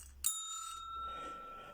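A notification bell sound effect rings out once, a bright metallic ding like a bicycle bell that sustains with clear ringing tones before fading, alone and clean.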